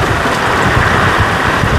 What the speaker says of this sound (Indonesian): Arus gelombang hujan badai nih.